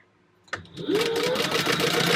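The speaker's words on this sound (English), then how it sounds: "I'm sewing at a 1/4 inch." A sewing machine starts up after a click and runs steadily, stitching fabric at a quarter-inch seam with a fast, even whirring hum, close and loud.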